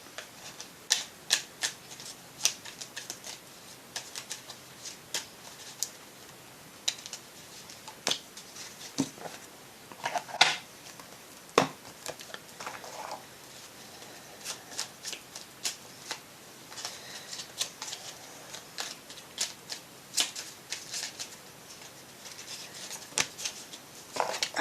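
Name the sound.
oracle cards being shuffled and drawn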